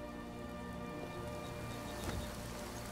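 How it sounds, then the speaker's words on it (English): Steady, dense rainfall in the video game Skyrim Special Edition, a constant broadband hiss with no breaks, close and fairly loud, with no voices over it. "And now it's raining."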